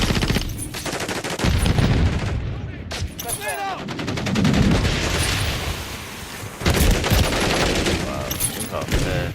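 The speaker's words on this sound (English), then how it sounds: "Taking effective fire." Call of Duty gunfire, heavy automatic bursts and scattered shots rattling almost nonstop, loud and close, with brief gaps between volleys and game voice lines mixed in.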